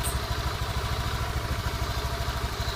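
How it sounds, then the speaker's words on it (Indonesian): Honda Beat FI scooter engine running steadily with a low, even drone and light mechanical clatter, close by and continuous, no talk. "Motor ini tidak tersendat bila mana digas."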